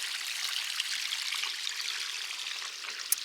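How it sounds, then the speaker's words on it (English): Soft, steady splashing of a garden pond waterfall, a gentle continuous trickle with small drips, fairly faint and undisturbed by voices. "love the sound of this waterfall."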